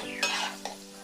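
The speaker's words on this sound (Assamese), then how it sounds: "ভালদৰে অকমান লৰাই দিম" A pumpkin and chicken curry is stirred in a pan after water is added, giving a brief bubbling sizzle with a couple of distinct spoon scrapes against the metal.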